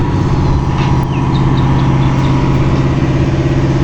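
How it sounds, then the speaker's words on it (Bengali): A speedboat engine idles at a tourist ghat on the Shitalakshya river, a loud, continuous low drone that holds steady and close throughout, with no voices. "এখানে স্পিড বোট"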